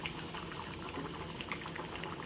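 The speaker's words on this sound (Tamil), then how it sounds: "இப்போ நல்லா இது கொதிக்கிட்டோங்க" Steady bubbling of a pot of dried-fish curry at a boil, a continuous soft simmer with small pops, nearby and even throughout.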